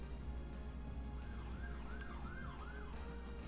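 An ambulance siren wails past at a distance, its rising and falling tone looping several times, faint beneath a steady low hum.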